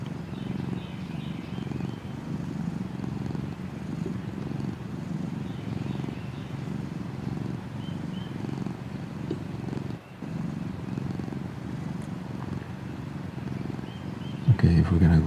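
Steady, close cat purring running continuously, a low rhythmic rumble with a brief break near the end.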